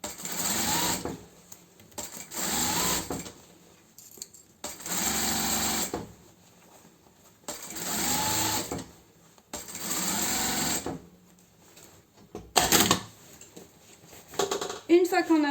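Sewing machine stitching fabric for a plant pot cover with piping, running in six bursts of a second or so, separated by short pauses, fairly close, with a few clicks and handling noises near the end.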